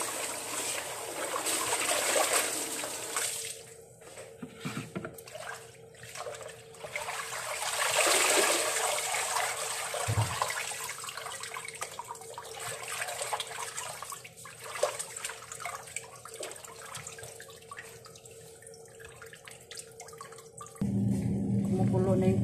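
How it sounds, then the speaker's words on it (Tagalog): Water boiling in a cooking pot for a vegetable and sweet potato dish, a faint, steady bubbling and hiss lasting throughout, with occasional clinks and quiet talk. "kumukulo na yung tubig"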